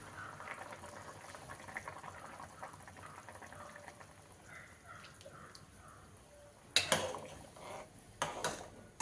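Prawn curry thickened with rice flour slurry bubbles at a low, steady simmer, with a few louder clinks of a utensil against the pot near the end.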